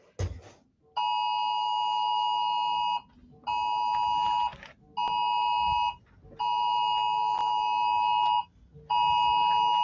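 A phone alert chimes repeatedly in a room, as a series of loud, steady electronic tones in roughly one-second bursts separated by brief gaps, with no talking over it.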